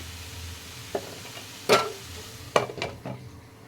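Grated beetroot and coconut cooking in a pan, with a soft low sizzle broken by a few sharp spatula scrapes and clinks against the pan, close and otherwise quiet.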